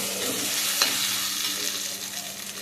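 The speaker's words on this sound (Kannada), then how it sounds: "tomato ಲಾಯ್ಕ್ fry ಆವಡು" Tomatoes frying in hot oil in a home kitchen pan, a steady close sizzle throughout with a brief clink of a utensil near the middle, no talking.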